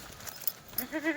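A Kathiawadi goat gives a short, close bleat near the end, after a second of faint background clatter and murmur.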